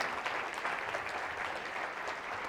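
Audience at a conference talk breaks into sustained, dense applause, many hands clapping steadily at close range for the whole stretch.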